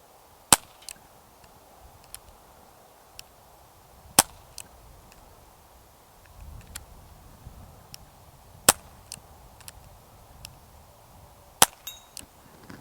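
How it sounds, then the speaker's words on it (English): Walther CP88 Comp air pistol fired outdoors at targets including a cowbell, giving sharp, isolated shots spaced irregularly a second or more apart, with faint ticks between them over quiet background. "But let me go ahead and do a little more shooting here."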